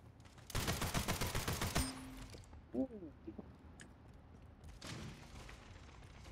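Rapid bursts of gunfire from a first-person shooter, a dense burst of shots followed later by a few scattered single pistol-like reports and another volley, mid-distance and fairly loud, with brief game effects between.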